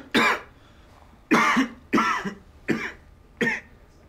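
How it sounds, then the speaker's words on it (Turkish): A person coughs five times after breathing in heavy smoke, in harsh, close, separate bursts: one, a pause, then four more at a quicker, uneven pace, with near silence between them. "Öksürün."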